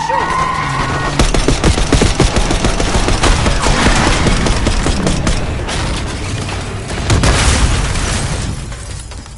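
Heavy gunfire erupts in a Black Ops 6 campaign street fight, dense machine-gun bursts and booming impacts loud and close, continuous rattling volleys swelling again near the end.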